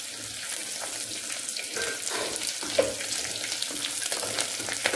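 Curry leaves dropped into hot oil with frying cashews, a busy crackling sizzle with sharp pops and spatters, loud and close throughout.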